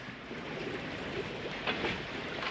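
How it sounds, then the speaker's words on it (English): A sailboat running downwind under a screecher sail in the Louisiades: a continuous wash of water against the hull mixed with steady wind noise, with no voices. "it's nice downwind sail with the screecher"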